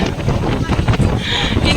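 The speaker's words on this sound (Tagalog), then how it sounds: "Grabe, lakas ang hangin." Strong wind on the Yangmingshan mountains in Taiwan buffets the microphone with a loud, low, rumbling roar that runs unbroken throughout.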